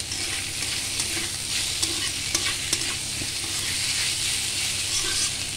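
Boiled lentils fry with salt and chilli powder in a pan, giving a continuous, fairly loud sizzle with occasional stirring clicks throughout.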